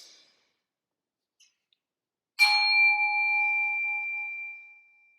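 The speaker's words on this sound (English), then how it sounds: "Then when I ding, you're going to let it out slowly as long as you can hear the bell." A small meditation bell struck once in a chapel rings out with a clear metallic ding, its bright tone lingering and slowly fading over a few seconds in an otherwise quiet room.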